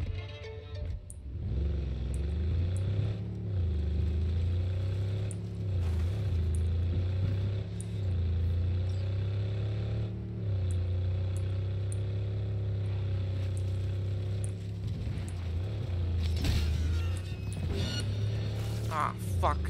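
A Militech car engine from Cyberpunk 2077 hums low and steady while driving, a continuous rumble with slight pitch shifts, under intermittent talk.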